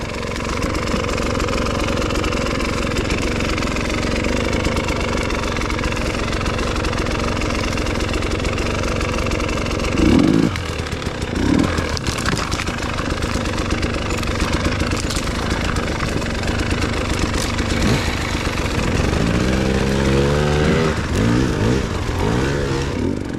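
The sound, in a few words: Starcross 6 dirt bike engine climbing a hill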